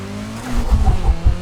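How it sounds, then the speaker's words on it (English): A BMW M3 engine in the racing game Need for Speed Heat revs and pulses in quick surges, with a tire squeal, loud and without speech. "So, you keep revving the car, keep going higher and higher"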